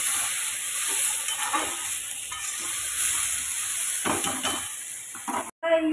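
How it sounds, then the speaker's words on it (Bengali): Soybean, potato and pointed gourd curry cooking in a pan, with a continuous close sizzle and hiss and occasional stirring scrapes, ending in an abrupt break. "তো এখানে সোয়াবিন আলু পটল দিয়ে একটা তরকারিটা বসিয়ে দিয়েছি।"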